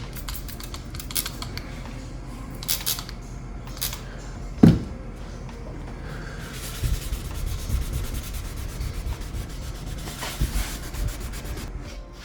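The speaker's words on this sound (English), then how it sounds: "Clean this stuff off real quick for Lindsey." Waxy residue being scrubbed off window trim with cleaner: steady rubbing, scraping strokes up close, uneven in rhythm, with one sharp knock partway through and no talking.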